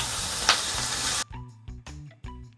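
Oil sizzling and hissing in a pan for frying curry masala, a steady loud fry that cuts off halfway, followed by a few short clinks and taps.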